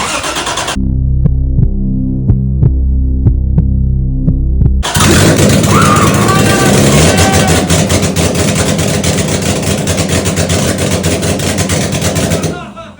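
A 1000+ hp Toyota 2JZ engine swapped into an FRS cranks with a steady rhythmic throb, then fires and settles into a loud, continuous, rough idle that fills the space.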